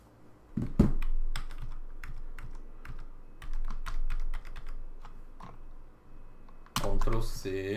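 Computer keyboard typing, quick bursts of clicky keystrokes for copy and paste shortcuts, close and crisp, with a louder clatter near the end and a voice speaking around the keys.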